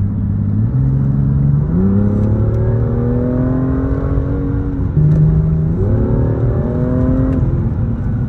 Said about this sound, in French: le N55, c'est un moteur qui a une sonorité puis une reprise